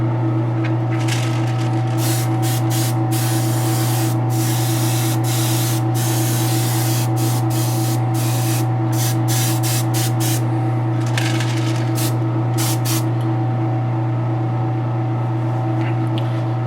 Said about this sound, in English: I'm going to hit it with some Testor's dull coat